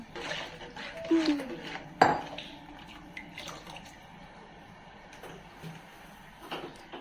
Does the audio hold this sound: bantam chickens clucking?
no